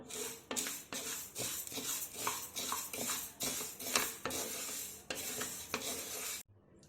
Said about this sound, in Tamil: எண்ணெய் ஊற்றாமல் வறுத்து எடுத்துக்கலாம். மீடியமான தீ வச்சு வறுத்து எடுத்துக்கலாம்.